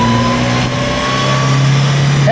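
A car engine pulls in first gear, a close, loud, steady drone that rises slightly in pitch as it accelerates.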